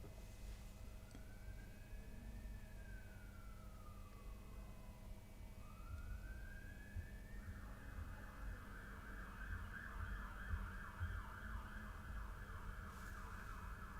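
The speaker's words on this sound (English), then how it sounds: "You may be able to hear the police siren here in Roman Road." A distant police siren on Roman Road, London wails slowly at first, then switches to a rapid warbling yelp, faint beneath steady low street rumble.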